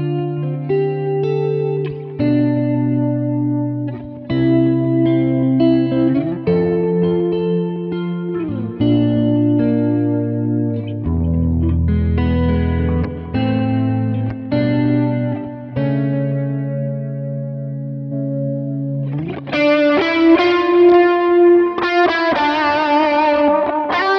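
High-gain distorted electric guitar through a Kemper Profiler with stomp effects, playing sustained chords and melodic lines loud and alone, with a brighter, busier passage near the end.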